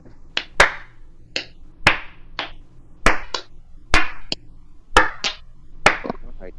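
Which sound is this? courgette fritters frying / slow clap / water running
slow clap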